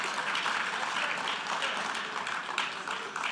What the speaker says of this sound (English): You can applaud. It's okay.